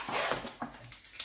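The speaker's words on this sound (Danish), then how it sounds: "der kommer en lille hund på et tidspunkt" A small dog whimpers and yips indoors, a few short soft whines and one brief sharper yelp spaced over about a second, fairly quiet and close.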